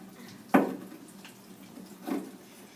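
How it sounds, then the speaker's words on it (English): Water poured through a soil sample during a permeability lab test, a sharp splash followed by a softer second gush about a second and a half later, fairly close and quiet, with no talking. "Pour all the water in."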